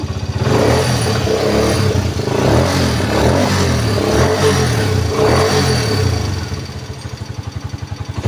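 A motorcycle engine runs close by, revving up and down in repeated swells of throttle before settling back toward a rough idle.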